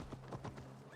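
Horse hooves clip-clop in Assassin's Creed Valhalla, a quick run of muffled steps over a steady low hum, with a faint whinny-like rising tone near the end.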